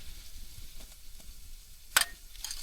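Masala spices sizzle in hot oil in a cooking pan, a faint hissing frying sound with a short sharp crackle near the end.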